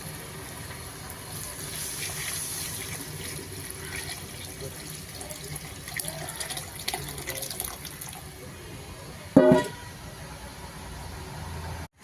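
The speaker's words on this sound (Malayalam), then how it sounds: "ഇനി ഞാൻ നേരത്തെ എടുത്തു വെച്ച പുളിവെള്ളം ഇതിലോട്ട് ഒഴിക്കുകയാണ്." Tamarind water is poured into a pot of simmering rasam, giving a soft, continuous liquid trickle with faint background hum and a short, sharper splash or clatter near the end.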